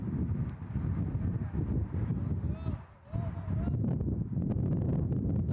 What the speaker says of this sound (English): Another strong gust coming out to left field.